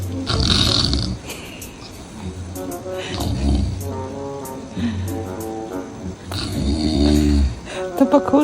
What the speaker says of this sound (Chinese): 爸爸打呼噜了